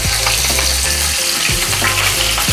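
Mustard seeds crackle with cumin, asafoetida and green chillies in hot oil for a cabbage-potato sabzi, a loud continuous close sizzle with scattered pops and occasional low stirring knocks, without speech.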